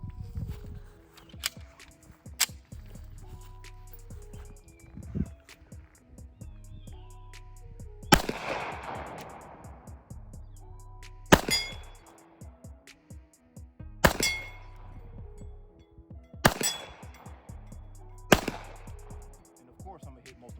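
A Rock Island 10mm 1911 pistol fires at a target about 20 to 25 yards away, with five loud, sharp gunshots spaced a few seconds apart. A faint voice speaks between the shots.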